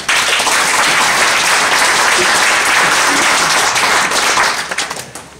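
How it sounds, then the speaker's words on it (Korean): A large audience applauds loudly to welcome a visiting professor giving a lecture on science and God, a dense, sustained wash of clapping that thins and fades out near the end. "박수로 환영하십니다."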